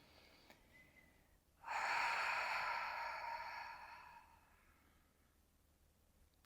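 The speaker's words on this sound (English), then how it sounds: "let's take one deep breath here" A single deep breath taken during a gentle full-body stretching session, a soft, drawn-out, airy breath that swells and then fades over a few seconds in an otherwise quiet room.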